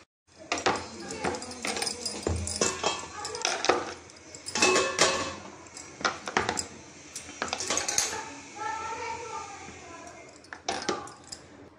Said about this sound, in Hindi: इसको ओपन करके चम्मच की हेल्प से हम इसका पल्प निकालेंगे